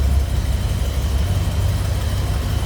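The 455 V8 engine of a 1972 Buick Riviera idles with a steady low rumble, close and even, without any talking.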